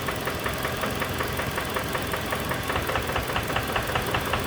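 A 2007 Toyota Tacoma's 2.7-liter four-cylinder idles with a rapid, evenly spaced metallic knock tapping over the engine hum, loud and close, with no one talking.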